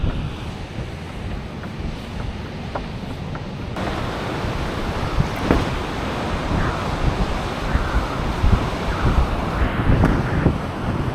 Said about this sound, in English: Waves are pretty small, but there's big sets rolling through.